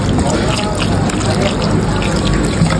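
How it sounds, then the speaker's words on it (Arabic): Cold water pours steadily over cut potatoes in a kitchen, a loud, continuous close splash and trickle with no break. "تحط عليها ميه ساقعه"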